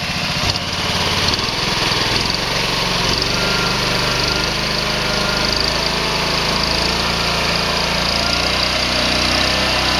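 A 2011 Prowler 13 hp pressure washer engine runs loud and close, its steady buzzing drone rising slightly as the throttle is eased up, with no voices over it.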